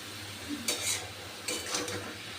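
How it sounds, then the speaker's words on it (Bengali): Red amaranth greens being stirred as they fry in a pan, a few soft scraping strokes of a spatula over a low steady sizzle, close and quiet. "এবার আমি শাকটাকে ভালো করে নেড়ে দিয়েছি।"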